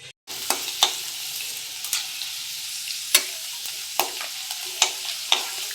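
Thin potato chips fry in a shallow layer of hot oil, a constant bubbling hiss broken by sharp scrapes and clicks as a spatula stirs them every second or so, close and clear with no talking.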